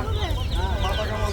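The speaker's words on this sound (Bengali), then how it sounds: "আবার এই যে এখানে মুরগির বাচ্চা আছে।" Young chicks at a poultry market peep in quick, overlapping rising chirps, close by, over a low hum of crowd background.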